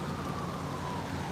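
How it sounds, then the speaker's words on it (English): Steady rain falling outdoors, a continuous soft hiss of drops on surfaces close by, with no voices over it. "it's a little rainy out here right now"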